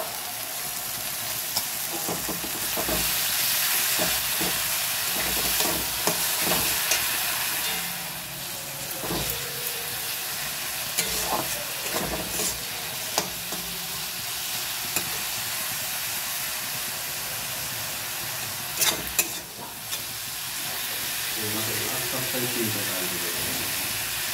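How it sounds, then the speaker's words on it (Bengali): Onion paste for mutton curry fries in a pan with a continuous hiss and sizzle, broken by sharp clinks and scrapes of stirring; a faint voice may surface at times. "পেঁয়াজটা আমার ভাজা ভাজা হয়ে গেছে আমি এবার বেটে রাখা পেঁয়াজটা"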